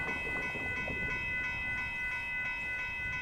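A northbound Union Pacific auto train passes at Dittmar Road in south Austin with a close, continuous rumble of rolling railcars and a rhythmic clatter of wheels over the rails, alone without speech.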